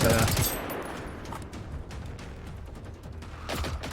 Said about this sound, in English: I'll be quiet now because Pontus is shooting.